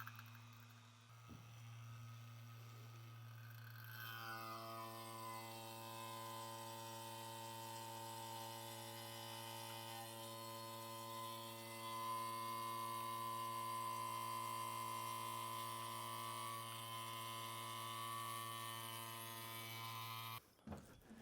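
A steady mechanical drone from a vacuum pump evacuating the A/C system of a Hitachi EX100-5 excavator, with a low hum and layered harmonic whine, starts after a few seconds and runs continuously, close and loud, before cutting off.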